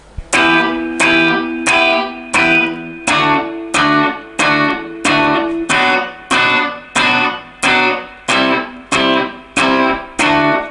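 Electric guitar with a distorted effect strums barre chords from Can't Stop in a steady rhythm, about thirteen sharp, loud chord hits, each ringing briefly before the next, with no talking over them.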